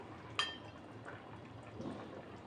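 Chicken biryani gravy is ladled out of a cooking pot into another vessel: a sharp metal clink from the spoon against the pot, then a soft, quiet slosh and pour of thin liquid close by.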